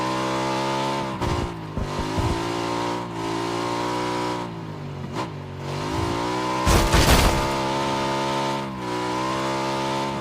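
Car engine in the video game PUBG drones steadily with rich harmonic tone, rising and falling as it revs and shifts, with a brief burst of rattling impact noise partway through.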